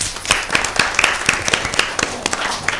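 A studio audience claps for a quiz team answering correctly, a brief burst of brisk, fairly loud applause with sharp individual claps rising out of the crowd sound.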